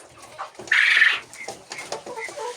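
Laying hens of the Lohmann and Sandy breeds, kept together in a coop where egg pecking has broken out and one hen is sick, cluck and squawk, with one loud sustained cackle near the start among softer scattered calls.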